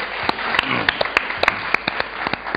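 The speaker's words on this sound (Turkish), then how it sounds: "Hemşerinizi biraz canlı alkışlayın" A small group at a wedding celebration claps in quick, uneven bursts, sharp individual hand claps close by rather than a large crowd.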